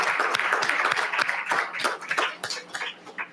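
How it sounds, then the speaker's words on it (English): A small audience at a school district board meeting claps for retiring staff, sparse individual claps with a distinct uneven rhythm, fairly close and thinning toward the end. "Please join me in a final round of applause for all of these folks"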